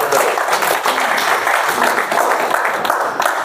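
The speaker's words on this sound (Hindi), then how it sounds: "तालियां।" An audience claps at a neurotherapy talk, a loud, continuous patter of many hands with slight swells and a faint trace of voices underneath.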